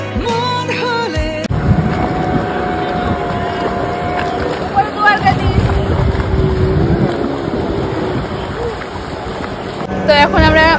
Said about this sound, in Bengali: তো এখন আমরা বোটে উঠে গেছি ওই পার যাওয়ার জন্য।